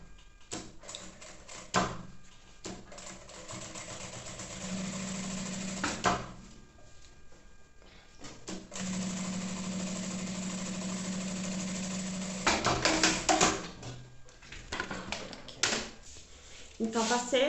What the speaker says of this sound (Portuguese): E eu vou passar uma costura com um pé de máquina.